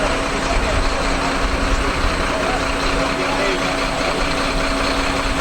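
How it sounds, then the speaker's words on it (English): A Jarcon concrete pump runs steadily on a building site, a constant mechanical engine drone with a hum, continuous and fairly close throughout, with no clear talk over it. "And there's the Jarcon pump. Right up to the roof."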